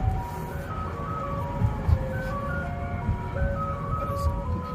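A Tesla's Boombox external speaker loops an ice cream truck jingle, its bright tinkling melody repeating steadily at moderate volume over low vehicle rumble, with a person talking faintly underneath.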